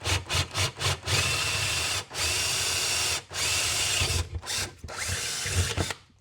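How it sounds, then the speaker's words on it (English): A power drill enlarges an existing hole in a vintage finned aluminum valve cover, whining steadily in several bursts separated by short pauses, close and loud. "Last drill job."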